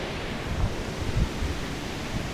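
Steady roaring rush of a waterfall near the village of Qalat outside Shiraz, Iran, a broad continuous wash of falling water with low rumbling pulses, close and fairly loud with no voices.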